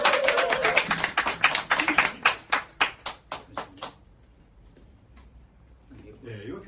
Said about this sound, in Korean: 그럼 박수 한번.